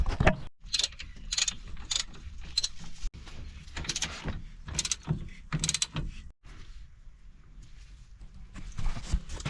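A ratchet loosens brake bolts on a Peugeot 107, giving close, quiet bursts of rapid clicking broken by short pauses, with no talking.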